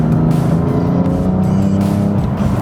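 A BMW F80 M3 fitted with Pure Turbos and a BM3 tune pulls hard under acceleration, its engine a loud, continuous roar heard up close.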